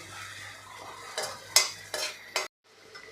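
Ground raw masala paste being sautéed in a pan for green chilli bhaji, with a soft sizzle under several sharp scrapes of a spoon stirring, ending in a brief silence before faint frying resumes.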